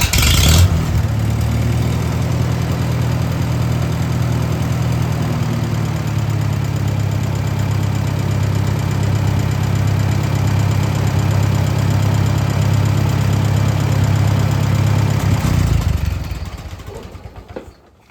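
A Farmall H tractor engine catches and runs steadily at a loud, close, rough idle with a low chugging rumble for about fifteen seconds, then cuts off and fades.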